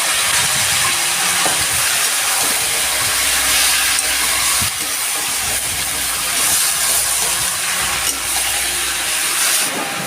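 Chopped ivy gourd and potato tipped into hot oil, giving a loud, dense, continuous hissing sizzle that carries on steadily with a few clattering stirs.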